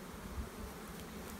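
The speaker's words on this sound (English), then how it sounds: "box of bees here. I mean, look at the population. I mean, it's just full of bees." Honeybees in a full, crowded hive box make a steady, dense low buzz, close and continuous, with no talking.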